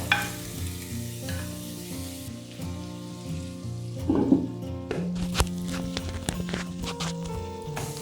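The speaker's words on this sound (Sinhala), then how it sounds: "මේක මෙන්න මෙහෙම හොඳට කලවම් කරගෙන විනාඩි 2ක් විතර මේක ටෙම්පරාදු කරගන්න ඕනේ" Dry prawns stir-fry in hot oil in a pan, Sri Lankan style, with a constant close sizzle and repeated scraping and clinking as a utensil stirs them, plus a low steady hum underneath.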